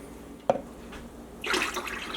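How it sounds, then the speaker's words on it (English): Cold water pours from a tap into a bucket of turkey brine: a single drip-like splash first, then a steady rushing stream that starts partway through and runs close by without interruption. "So now I'm just going to add cold water."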